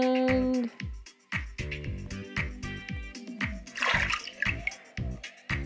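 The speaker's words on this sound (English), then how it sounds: "With this cup, we can fill with water." Water pours into a cup in a dentist-themed puzzle video game, a burst of splashing in the middle of rhythmic, bouncy game music that plays loudly throughout.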